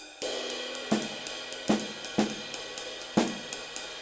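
A ride cymbal keeps a swinging pattern while crisp snare hits land at irregular accents, close and clear with no talking.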